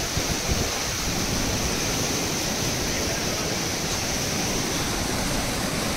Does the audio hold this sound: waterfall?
yes